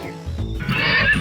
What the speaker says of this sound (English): That's just a horse neighing.